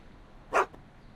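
A single short dog bark from Einstein, Doc's dog in the Back to the Future video game, sounds once, clear but not loud, with quiet background before and after.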